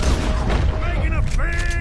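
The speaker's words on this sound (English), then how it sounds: "Hey, shoot the lock." A gunshot fired at a lock in Red Dead Redemption 2 rings out amid busy game noise, with a voice speaking alongside and a ringing tonal tail after the blast.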